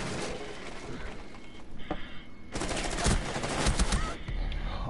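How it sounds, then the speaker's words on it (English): Gunfire in Rainbow Six Siege, with dense, rapid automatic bursts and scattered single shots layered over one another, loud and close, with heavier thumps toward the end. "I shot him in the face!"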